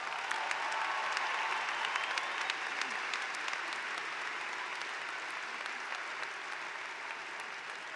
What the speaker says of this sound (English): Please join me in showing our appreciation with a round of applause for their efforts.